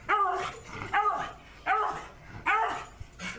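A dog barks and whimpers in repeated bursts, roughly four or five loud, close yelps spaced across the stretch, with a person's voice briefly mixed in.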